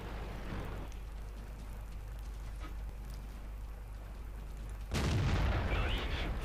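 A tank cannon booms in a World of Tanks match, one loud broadband blast near the end of the clip after a stretch of low, rumbling battle ambience.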